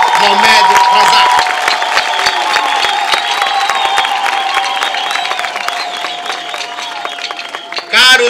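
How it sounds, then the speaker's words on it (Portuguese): An outdoor crowd at a Quelimane city anniversary ceremony claps and cheers for the governor, with sharp, busy clapping under a steady sustained tone. The clapping thins toward the end before a brief loud burst. "peço uma salva de palmas para o nosso atual governador"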